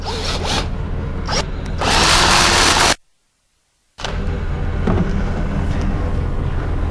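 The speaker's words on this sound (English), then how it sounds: "I'm going to come down and drill the bottom side" A power drill bores a hole in the bottom side of an Airstream trailer. Loud, close bursts of drilling are cut by a second of silence, then the drilling resumes and runs steadily to the end.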